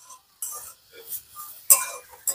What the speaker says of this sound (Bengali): এরকম নাড়তে থাকবো যতক্ষণ না এই নারকেল থেকে তেলটা বেরিয়ে আসছে